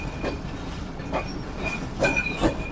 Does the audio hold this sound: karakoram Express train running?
yes